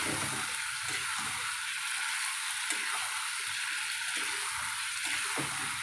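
Chili powder and spices fry in oil for a red meat curry, a soft, continuous sizzle with faint stirring scrapes at intervals, fairly quiet and without talk.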